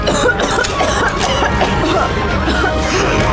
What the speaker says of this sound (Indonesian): Aduh, batuk semua.